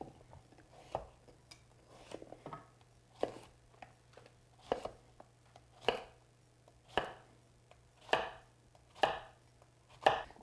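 A knife cuts through yellow squash on a cutting board in a steady run of about a dozen crisp chops, each a clear thunk, close up against a faint background hum.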